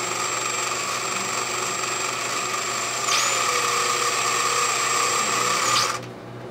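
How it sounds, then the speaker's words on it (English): A power drill with a tiny 1/16 inch bit bores into a metal pawl pin part from a 7-inch Delta Rockwell metal shaper, a steady high whine running alone and close that rises slightly in load midway before stopping. "drill it and use my piece here as a guide"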